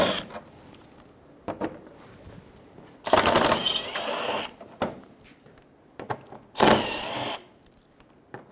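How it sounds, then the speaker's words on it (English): A ratchet backing out 7mm bumper screws on a car, with a few short bursts of rapid ratcheting clicks between scattered handling taps and quieter pauses, close up. "Go around the bottom side of the bumper and remove all of the 7mm screws"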